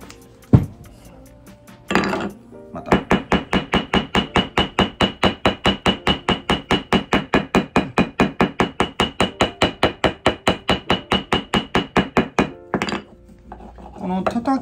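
Leather is hammered on a marble slab in a fast, steady run of sharp, ringing knocks, close and loud, with a few separate blows before and after the long even burst.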